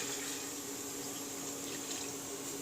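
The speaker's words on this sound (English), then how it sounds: "Put soup pan on fire. Add chicken stock." Chicken stock pours steadily into a soup pan set on the heat, a continuous close liquid rush that runs evenly throughout without pauses or talk.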